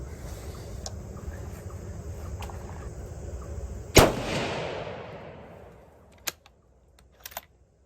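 A Tikka T3 rifle in .243 Winchester, loaded with 70 grain ballistic tip bullets, fires a single close, sharp shot on a range, followed by a long fading echo and a few faint clicks.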